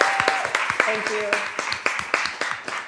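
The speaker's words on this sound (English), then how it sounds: "I'd also like to give another round of applause for Persis and the Center for Responsible Business for putting this together." Scattered audience applause follows a fireside chat event, individual claps popping unevenly at close range rather than building into a full ovation, with a short spoken word and a few sustained tones mixed in.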